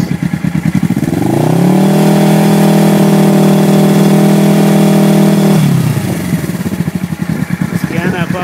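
A Suzuki GS 425L motorcycle engine is revved up to around 5,000 RPM, and its loud, close buzzing drone climbs and holds steady for several seconds before dropping back to a lumpy idle.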